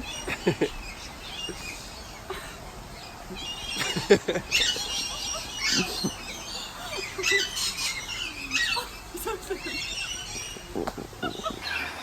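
A pet parrot that has been chewing up a hat squawks repeatedly: harsh, loud calls in irregular bursts, close up, with rustling in between and no talk.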